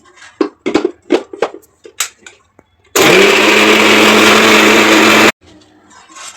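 An electric mixer grinder blends spicy Rayalaseema-style chutney into a paste. It roars loud and steady for about two seconds and then cuts off abruptly, with short clattering knocks before it starts.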